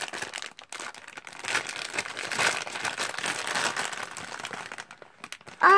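A plastic bag crinkles steadily as it is handled and packed, a dense, close rustle running continuously with no voices over it.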